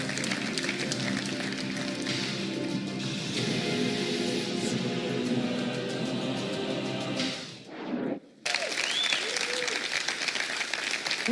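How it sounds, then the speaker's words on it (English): Audience applause at a boxing tournament draw event for super-middleweights, a dense sustained clapping from a crowd that fades briefly, cuts out, then resumes just as full. "a big round of applause"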